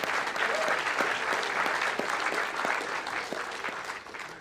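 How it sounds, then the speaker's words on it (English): Audience applause at a British Skydiving awards ceremony, a steady bed of many hands clapping at moderate loudness for several seconds, slightly thinning toward the end. "can we please have a round of applause"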